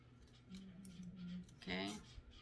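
Scissors snip halfway down a sheet of fine paper while making a paper water lily, a few quiet crisp cuts close by, with a person talking softly.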